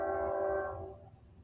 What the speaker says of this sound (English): sound like a train going by